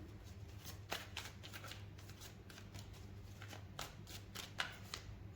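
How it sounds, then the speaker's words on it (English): Tarot cards are shuffled by hand, a steady run of soft riffling flicks and papery slaps close up, with no talk over them. "Shuffle."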